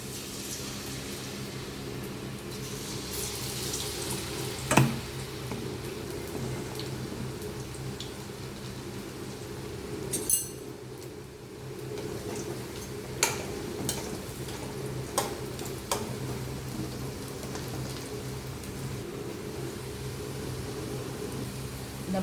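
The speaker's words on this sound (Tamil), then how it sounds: "எண்ணெயை சூடு பண்ணி காலிஃப்ளவரை பொரித்து எடுத்துக்கலாம்" Cauliflower pieces frying in hot oil in a pan, a soft continuous sizzle with occasional clinks and taps of a utensil, fairly quiet and close.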